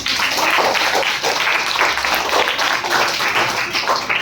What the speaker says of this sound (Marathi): सुंदर जोरदार टाळ्या झाला पाहिजे